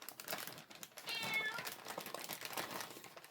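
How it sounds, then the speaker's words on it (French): A cat named Ruby meows indoors, a faint, short, plaintive cry amid soft household clatter and rustling. "il y a mon chat qui pleure"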